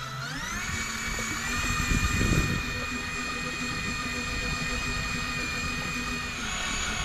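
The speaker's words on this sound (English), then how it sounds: "I'll just sit back and relax while the electric reel does all the hard work." An electric fishing reel winds in a long line far offshore from a jet-ski, giving a steady high-pitched motor whine that holds its pitch throughout, close and fairly loud over constant wind and engine rumble.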